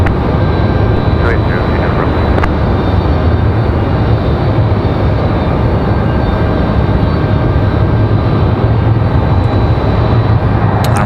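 A FedEx feeder aircraft on final approach makes a loud, steady broadband roar with a strong low rumble that stays constant throughout, with a voice speaking over it.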